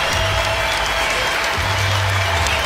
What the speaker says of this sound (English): Well-deserved standing ovation